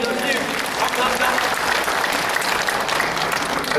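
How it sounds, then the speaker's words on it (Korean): A church congregation claps together in a dense, steady round of applause that fills the room at close range and keeps an even loudness from start to finish. "하나님께 영광의 박수 한번 다시 한번 드립니다."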